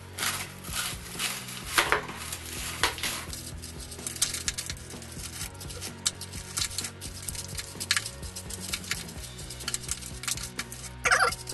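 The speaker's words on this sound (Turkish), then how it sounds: "Bisküvilerimizi alıyoruz arkadaşlar şöyle güzelce. Bunları eziyoruz." Irregular crunching and crackling as dry biscuits are crushed by hand, bursts of crisp snapping at close range with pauses between.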